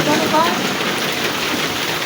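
Steady rain falls across an outdoor football game in a Bangladeshi village, a dense close hiss that stays constant and loud throughout.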